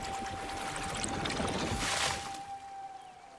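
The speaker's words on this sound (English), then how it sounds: "Water splash." A water splash from Avatar waterbending: a soft, continuous wash of pouring and rushing water that swells briefly near the middle, with a steady tone running beneath it.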